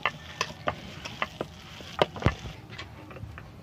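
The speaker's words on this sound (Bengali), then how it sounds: "ধনে পাতা দিয়ে দিলাম। তো আমি ভালো করে মিশিয়ে নেবো।" Coriander leaves are mixed by hand into a wet shrimp fritter batter in a bowl: soft, squelchy stirring with scattered light taps and clicks, close and quiet.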